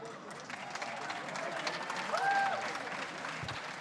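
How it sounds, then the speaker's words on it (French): Festival audience at the Avignon Off 2012 opening speech applauds steadily, a soft, distant wash of clapping from a crowd with a faint voice over it. "Vous pouvez applaudir"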